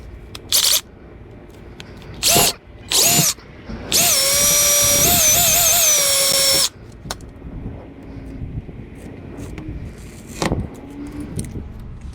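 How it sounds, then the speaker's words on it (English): A power drill drills holes for a quick-release bumper install on a G37s car, with a few short trigger bursts followed by one long steady whine, close and loud, then quieter handling noises. "So I'm gonna drill to the second one."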